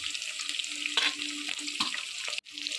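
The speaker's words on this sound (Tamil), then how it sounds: "வெங்காயம் சேர்த்துட்டு ஒரு 10 பல் பூண்டு சேர்த்துக்கலாம்." Onions with about ten garlic cloves frying in a pan for coconut milk rice, a steady close sizzle with a few stirring scrapes and a brief dip near the end.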